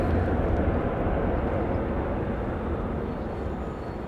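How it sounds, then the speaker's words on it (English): An airliner on a Kansas City flight landing at Dallas Love Field with its thrust reversers deployed, a broad, steady roar heard from a distance that slowly fades, with no voice. "Spoilers up, reversers out. There we go, loud reversers there for that Kansas City flight."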